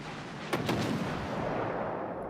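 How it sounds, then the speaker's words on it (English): Battleship Musashi's big guns fire in World of Warships: Legends: two heavy booming blasts in quick succession, close and loud, over a steady rumbling battle background. "Musashi shot at me."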